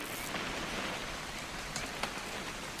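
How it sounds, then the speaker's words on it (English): Steady rain in the video game What Remains of Edith Finch pours down in a dense, even hiss, with scattered sharper drops pattering on a surface. "It's gonna rain the whole weekend, isn't it?"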